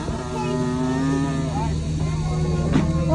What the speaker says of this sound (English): Oh, that's a nice cow.